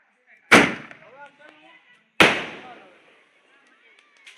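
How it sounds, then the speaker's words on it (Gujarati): Two loud sky shot firecracker bursts at Diwali, a couple of seconds apart, each a sharp bang with a crackling decay that rings out, heard outdoors. "ફટાકડો સ્કાય શોટ પડે જોજો"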